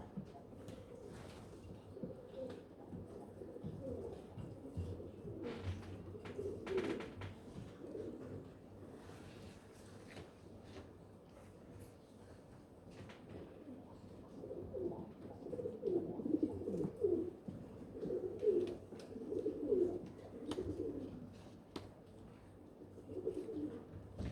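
Jacobin pigeons cooing at a British show, a continuous low murmur of overlapping coos from many birds close by, swelling louder toward the end.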